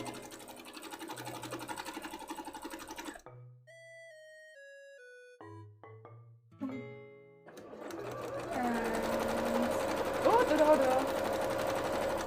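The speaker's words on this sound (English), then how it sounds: "we're just going up here and now and just sewing the basting stitch the whole way up" Sewing machine running a long basting stitch in straight lines for cosplay, a near, steady whirring run that stops, with a few tones in the pause, then starts up again, while people talk over it.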